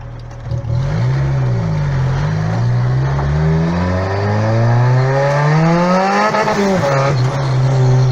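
Turbocharged Honda Civic engine revving loudly up close, rising and falling through several strong throttle sweeps, with a brief drop before climbing again.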